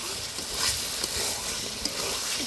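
Food frying in a pan over a wood-fired stove, with potatoes cooking, giving a steady broadband sizzle and a few soft stirring scrapes, fairly loud and continuous with no talk.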